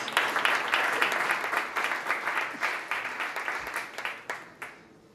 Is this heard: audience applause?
yes